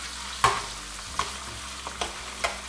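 Garlic and parsley sizzle in oil in a paella pan, a soft continuous frying hiss broken by several sharp scraping stirs of a utensil against the metal.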